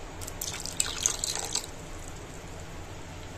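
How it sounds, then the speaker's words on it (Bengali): Water pours and trickles onto semolina in a bowl for soaking, a steady close splashing stream for about a second and a half, then stopping into quiet room hiss. "আর একটু জল দিয়ে দিই"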